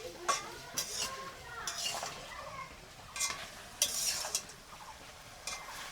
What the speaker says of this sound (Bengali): মাও দেখে মাংসটা রান্না করছে অলরেডি